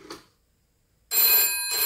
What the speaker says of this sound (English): that would ring the phone in exactly the same way